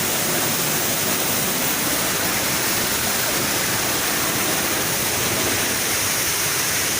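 Pangyan Falls in Davao Oriental pours in a steady, dense roar of falling water, loud and unbroken throughout with no voices.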